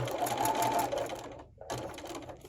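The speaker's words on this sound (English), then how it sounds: "I'm gonna start sewing." Sewing machine stitching a quilt block, a fast, even mechanical whirring and rattle that stops briefly and then resumes, close and fairly quiet.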